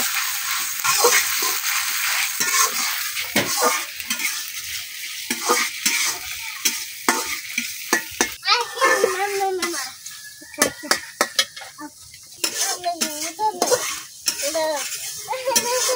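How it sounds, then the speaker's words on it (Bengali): Sliced onions fry in a pan over the fire, giving a continuous sizzle broken up by frequent clinks and scrapes of a stirring spoon, close by, while voices talk now and then in the background. "এখন পেঁয়াজটা একটু বাইর জ্বালে রাখ।"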